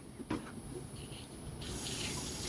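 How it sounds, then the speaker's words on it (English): Hot water emptied out of a flap pocket at a beach camp, a steady gushing pour with a brief knock near the start, the flow swelling slightly toward the end; close and moderately loud with no voices. "I just emptied the hot water out of the flap pocket."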